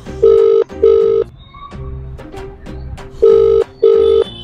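A phone call ringing through as a parent is called, with two loud pairs of electronic ringback tones at the start and end and quieter tonal beeps in between, close and clear with no talking.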